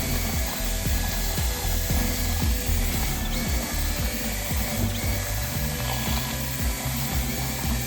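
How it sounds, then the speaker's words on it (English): A concrete mixer paddle churns stucco patch mortar in a bucket, giving a steady motor hum with a quick, rhythmic knocking and clatter of the paddle, heard close and alone. "Keep the concrete mixer running until the mixture is completely smooth and there are no lumps"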